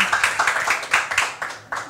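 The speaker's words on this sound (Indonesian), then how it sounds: "Tepuk tangan buat Pak Naufal" Applause for a speaker at a health event, a small group clapping in a quick, uneven rhythm of distinct close claps.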